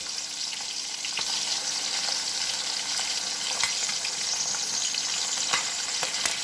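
Shrimp fry in a wok for shrimp chow fun, giving a steady, close sizzle with faint crackles and stirring clicks throughout and no talking.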